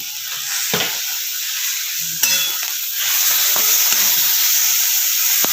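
Green chillies dry-roasting in a hot pan for a spicy crushed chilli thecha, with a steady sizzle and hiss and a few sharp scrapes and clinks of stirring close by.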